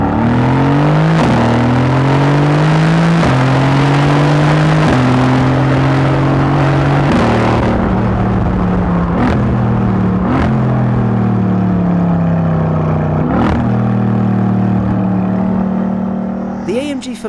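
Mercedes-AMG C63 S Coupé V8 engine revving hard through repeated gear changes, loud and close, pitch climbing and dropping in steps with sharp shift cracks, ending with a final rev as it fades slightly.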